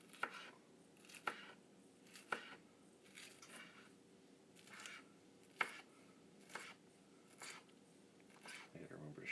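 A knife chopping green onions on a board, with sharp, evenly spaced thuds about once a second over a quiet background with light talk.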